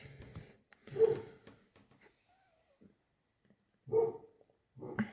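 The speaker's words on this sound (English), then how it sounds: "my dogs are being really loud" Dogs bark in a few loud bursts, one near the start, another around four seconds and a third at the end, with quiet gaps between.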